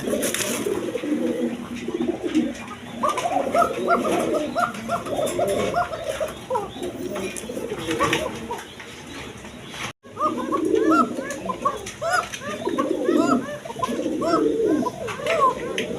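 Male and female pigeons coo repeatedly in a loft, soft throaty calls overlapping in uneven bursts close by, with a brief pause partway through.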